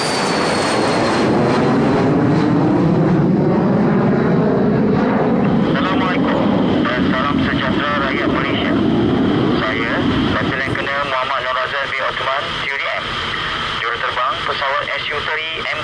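A Royal Malaysian Air Force Sukhoi Su-30MKM fighter jet roars overhead during a National Day air show, its engine noise loud and sweeping in pitch as it passes, with a voice talking underneath.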